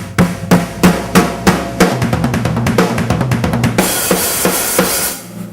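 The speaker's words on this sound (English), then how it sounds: "the drums are reintroduced with a build-up which sounds like this" A drum build-up from a song starts with spaced, heavy hits that speed into a rapid roll and end in a crashing cymbal wash, loud and played alone.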